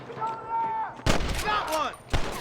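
Gunfire in the western video game Red Dead Redemption: two sharp, loud shots about a second apart, cutting through a sustained tonal backdrop.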